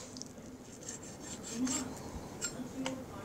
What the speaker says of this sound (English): Let's trim off any extra fat maybe.